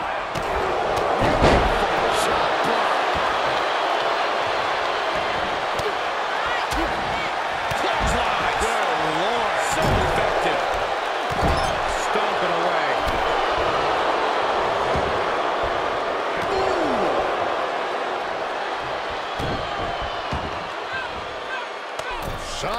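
Wrestling match in the WWE 2K23 video game, a loud face-down slam among repeated heavy thuds and crowd noise, with commentators talking throughout.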